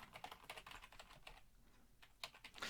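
Computer keyboard keys tapped in quick bursts while entering Windows shortcuts, a cluster of fast clicks, a brief pause, then a few more presses, quiet and close.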